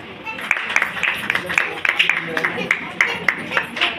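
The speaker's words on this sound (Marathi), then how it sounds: "यांनी मॅडमसाठी जोरात टाळ्या" A small crowd claps for an award recipient at a Lokmat Sakhi Manch ceremony honouring social media influencers, crisp individual hand claps landing in a quick, uneven rhythm, fairly close and continuing throughout.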